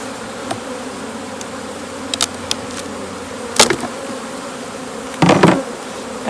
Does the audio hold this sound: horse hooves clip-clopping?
no